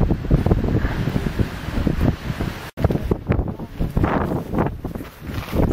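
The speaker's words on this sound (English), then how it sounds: "So it's a pretty windy day here in Tingo." Strong wind blowing on a hillside in Tingo Pucara, Ecuador, loud continuous gusting buffets against the microphone with fluctuating rumble throughout, no speech.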